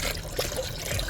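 Antifreeze spills and trickles from a Honda Element during brake work, a brief, steady splashing dribble of liquid heard close up.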